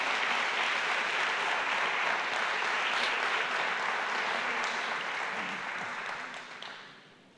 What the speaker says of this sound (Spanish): Denle un fuerte aplauso a Jesús por esta palabra.